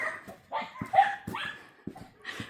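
Dog whimpering and yipping outdoors while out on a walk, with several short, high, strained whines and yelps broken by brief pauses, close and fairly loud, with no talking.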